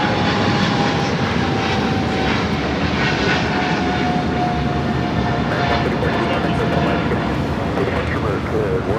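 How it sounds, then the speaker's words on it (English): A Boeing 777 rolls down runway 25 Right at LAX on its takeoff run, its engines making a loud, continuous roar throughout. A voice talks over it. "got that 777 heading to London Heathrow, now rolling down 25 right."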